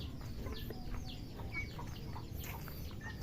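Backyard chickens clucking and calling near their roosting coop, a scatter of short, irregular clucks over a low rumbling background.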